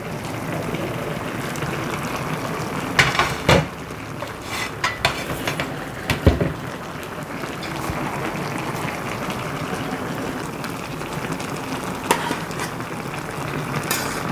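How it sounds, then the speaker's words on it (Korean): Korean army stew (budae jjigae) with tomato and beans simmering in a pot, a steady low bubbling hiss with occasional clinks and stirring knocks against the pot, close by and with no talking. "아주 맛있게 잘 끓고 있네요"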